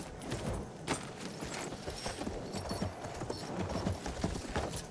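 A horse's hooves clop in the World War I shooter Battlefield 1, a busy stream of uneven hoof strikes over constant rustling and mechanical game noise at moderate level.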